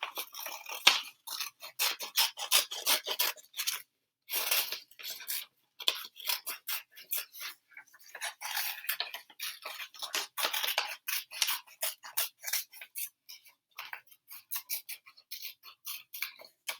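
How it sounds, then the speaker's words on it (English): Scissors snip out a paper butterfly wing for an alphabet craft book, giving a close series of crisp, irregular cuts with brief pauses in between and no talk. "But first I'm going to cut out my wing."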